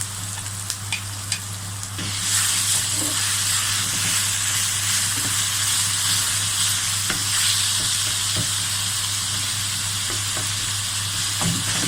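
Minced meat and onion hit a hot pan with a sudden loud sizzle that holds steady, punctuated by clinks and scrapes from stirring, over a low background hum.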